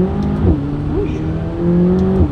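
A McLaren 570GT's turbocharged engine hums steadily from inside the car as it accelerates, with the tone shifting up and down through the short stretch and a voice briefly under the drone.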